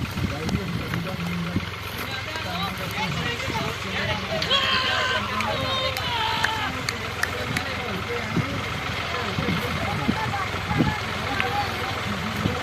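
A small Fiat tractor engine runs steadily at a tractor power show, its low continuous rumble under a crowd's hubbub and nearby voices throughout.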